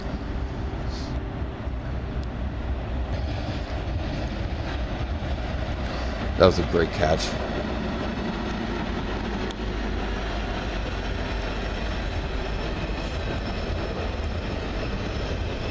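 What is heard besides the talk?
Norfolk Southern train passing through Bound Brook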